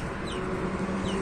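Rooster on a Turkish farm with hens and chicks, giving soft short clucks over a steady background hum, fairly close and alone without talk.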